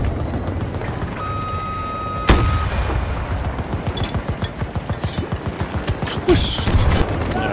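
Gunfire in a video game: a sudden sharp blast, then a rapid train of repeated shots rolling on for several seconds, followed by another heavy boom near the end, with some game sounds and faint talk mixed in.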